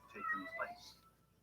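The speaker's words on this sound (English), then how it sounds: "If you hear meowing in the background," A cat meows from inside a crate in a quiet home, a short, faint, drawn-out cry heard once in the background.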